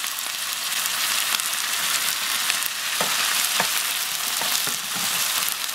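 Ingredients, including cucumber, stir-fry in a hot wok with a dense, continuous loud sizzle and occasional scraping knocks of the spatula, close up, with no voices.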